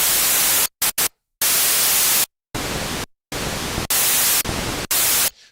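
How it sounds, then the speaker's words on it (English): The analog noise oscillator of a Roland SH-2 synthesizer plays bright hissing bursts, cut into several short and longer blocks by sharp stops and silent gaps. "The SH-2 uses analog noise, and it's very bright"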